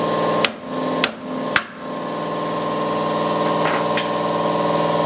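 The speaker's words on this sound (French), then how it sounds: "tu prends une masse, tu laisses l'écrou dessus, une masse, tu tapes dessus." A sledgehammer strikes the nut on a Dacia Sandero steering ball joint three times, each a sharp metallic clang, over a steady engine idle hum that continues afterward.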